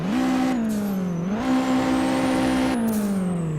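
Car engine in Forza Horizon 5 driven with manual transmission, a steady close drone that climbs in pitch, drops sharply at a gear change, then climbs again and settles before falling off.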